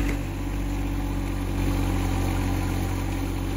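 A John Deere 1025R compact tractor engine running at lowered RPM while driving a post hole auger, a steady, close, throbbing drone with a low mechanical hum and no voices.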